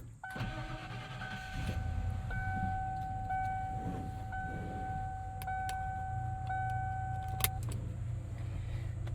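A pickup truck engine cranks and catches, then settles into a steady low idle with a constant rumble, while thin tonal chimes repeat over it from the cab.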